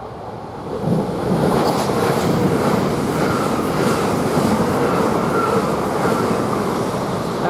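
A train passes through Three Bridges railway station with a loud, sustained rumble and roar that swells after the first second and holds steady nearby for the rest of the clip.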